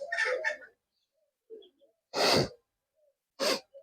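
Pigeons in a loft holding Madrasi, Teddy and Murshidabadi tumbler breeds make a few short, close bursts of flutter or calls separated by quiet gaps.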